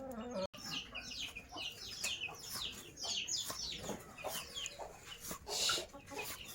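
Several chickens cluck and chatter in a farmyard, a busy run of short overlapping calls at moderate distance with no clear talk.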